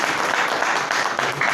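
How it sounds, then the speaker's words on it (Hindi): Applause from a crowd at a political party gathering welcoming a newly appointed official, a steady dense burst of clapping filling the whole moment at close range. "जोरदार तालियों से स्वागत करें भैया।"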